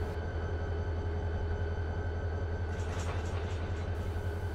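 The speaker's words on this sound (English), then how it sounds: "we should begin to pull forward once the brakes on the train release" Freight train in the Run 8 train simulator game as a BNSF local starts to pull forward after its brakes release, a steady low rumble and rolling rail noise with faint clicks, continuous and even, no voices.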